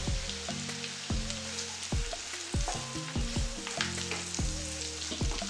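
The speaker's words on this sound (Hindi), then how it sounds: "अदरक और लहसुन भुन गया है, अब हम डालेंगे इसमें हरी मिर्ची और टमाटर।" Ginger, garlic, green chili and tomato for paneer bhurji fry in salted butter, giving a busy close sizzle punctuated by repeated sharp clinks and scrapes of stirring.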